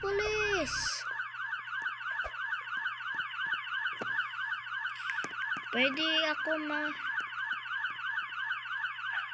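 A police car siren wails loudly and without a break, its rising-and-falling tone sweeping steadily throughout while brief voices and a few other sounds cut across it.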